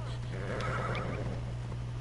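A single horse whinny in a video game, a loud neigh over a steady low hum, with game sound and a person talking around it.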